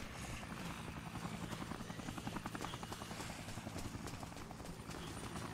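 Helicopter in the Dead Rising video game flying overhead, a loud, steady rotor chop with rapid rhythmic thumping that fills the whole stretch, with no voices over it.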